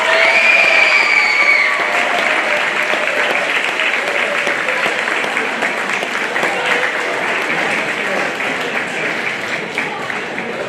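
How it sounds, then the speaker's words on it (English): A school audience breaks into sustained applause at an awards ceremony for a career-technical and STEM academy, steady clapping with some cheering that holds loud and even throughout. "why don't we give him a round of applause?"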